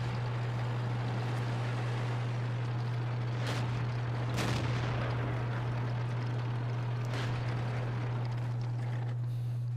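Tank gun in World of Tanks, an E-25 tank destroyer firing shells: sharp, fairly faint blasts rising over a constant low engine hum, no speech.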